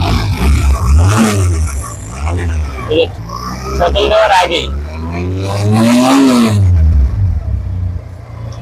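A Pilder V4 motorcycle engine idles in neutral and revs with a steady low rumble, running continuously beneath a man's close, loud talking.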